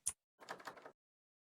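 A video game door: a sharp click, then a brief pause and a short rattling, sliding door sound, close and clean against silence.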